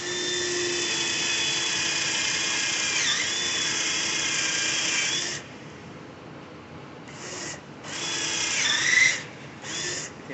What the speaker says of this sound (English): Just drill down in there enough so you can get a plug in there